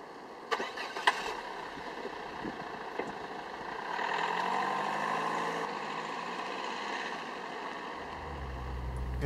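Mazda 2 with a 1.5 litre turbo diesel starting up: a few clicks, then the engine catches with a rising whir and settles into a low, steady idle rumble, heard from inside the car.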